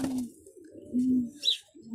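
A pigeon cooing close by in soft, low, repeated throaty coos, with a brief higher chirp between them.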